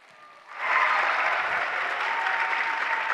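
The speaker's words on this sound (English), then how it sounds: "can you give Tom a real big round of applause?" An audience at a high school winter band concert bursts into loud, sustained applause that starts abruptly and holds steady for a few seconds, with no talking over it.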